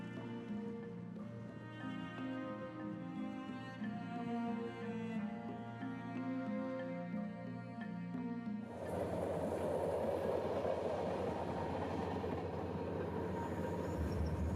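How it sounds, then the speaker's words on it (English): Iron ore train crossing the Mauritanian desert, first a steady layered rolling drone with tonal hums, then a louder broadband rush of the wagons passing close for the last several seconds. "the desert train resumes its course"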